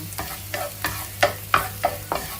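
Garlic fries in oil in a pan while being stirred, a steady sizzle punctuated by seven or eight rhythmic scraping strokes of a utensil, close and clear.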